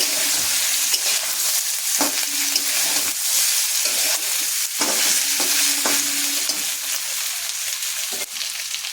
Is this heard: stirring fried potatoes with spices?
yes